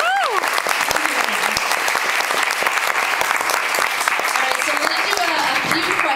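Audience applause at a Tegan and Sara Q&A in Winnipeg, a dense, loud, steady wash of clapping throughout, with scattered cheers and a voice speaking over it.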